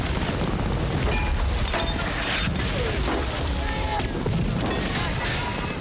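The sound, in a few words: machine gun fire in a film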